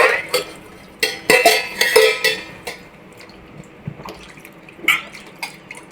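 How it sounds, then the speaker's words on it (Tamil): Cooking oil poured into a pan at the start of making paruppu kathirikai kuzhambu, heard as a short wet, liquid splash with drips and light metallic clinks of the pan nearby. "முதல்ல எண்ணெய் ஊற்றிக்கலாம்."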